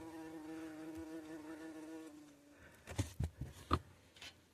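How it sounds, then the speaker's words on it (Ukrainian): A wasp buzzes steadily up close near an old wooden beehive with dripping honeycomb, its harmonic drone running for about two seconds before it fades into several sharp knocks and squashing sounds. "Ох ти елки, що це оса."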